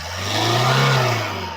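A used car's engine revs once near the mic, rising to a loud, smooth peak and easing back down over about a second and a half, with no talking.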